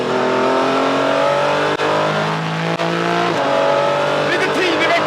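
Porsche 718 Cayman GT4 on a race track, its engine revving loudly and climbing through the range, with two brief dips from quick gear shifts and faint tire squeal near the end, close and continuous while someone talks excitedly over it.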